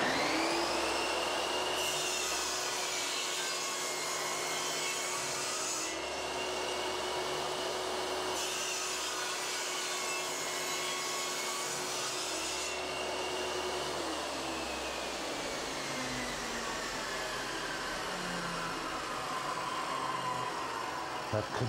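A Triton Workcentre table saw cuts tongue and groove joints in wood, its blade whining loudly and steadily through two long passes with a constant motor hum underneath.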